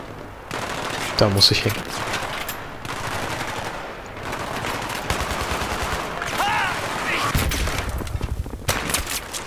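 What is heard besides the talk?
machine gun fire in Battlefield 3 video game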